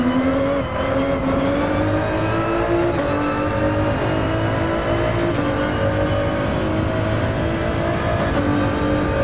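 A Ford GT-LM EcoBoost V6 race car engine in Gran Turismo 7 drones loud and steady from inside the car, its pitch sliding slowly through a gear at speed.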